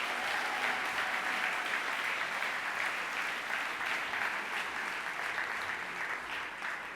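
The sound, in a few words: applause for award winners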